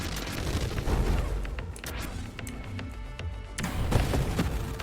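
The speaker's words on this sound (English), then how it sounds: "Oh, they have cluster bombs." Cluster bombs go off in the space shooter game Nova Drift, a dense scatter of rapid pops and muffled booms layered over continuous game noise, with bursts that thicken and fade across the stretch.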